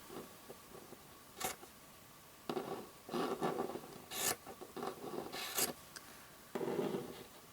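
Scissors cut across a bundled yarn tassel at an angle, giving several short, close rasping snips in separate bursts with quiet gaps between them and no talking.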